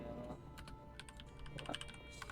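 A command being typed on a computer keyboard, a short run of light clicking keystrokes close up over a steady background hum, no voice present.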